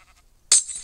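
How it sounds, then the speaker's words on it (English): A sheep in a Minecraft-like video game lets out a single short, bright bleat after near silence, loud and close. "That dumb sheep is there."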